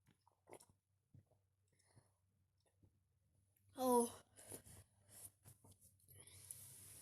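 Someone bites into a sour lemon with a soft, quiet crunch, then lets out a brief strained vocal groan and chews faintly in an otherwise hushed setting.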